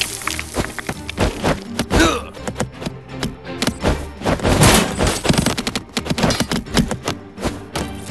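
Archidon stick-figure archers loosing volleys in the mobile strategy game Stick War Legacy, amid a dense battle with repeated sharp thwacks and impacts in rapid, irregular bursts, loud and busy throughout.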